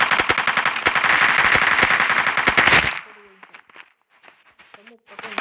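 Rapid automatic gunfire from the Kuboom mobile shooter game rattles loud and continuous for about three seconds, then stops abruptly, leaving only faint scattered game effects.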